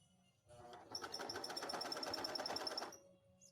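A sewing machine stitches neon ripstop nylon at a slow, steady pace, giving a close, even run of mechanical whirring and clicking that lasts about two seconds and then stops.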